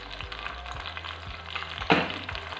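Tomato puree and salt hitting a hot cooking pan for dahi chicken, a close, steady frying sizzle with light stirring clicks and one brief louder splash of hiss partway through; no voices.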